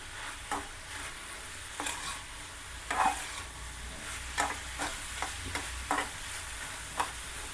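Tamarind frying in a pan for a Karnataka okra curry (bende kayi huli), with soft continuous sizzle broken by occasional stirring scrapes and clicks, no talking.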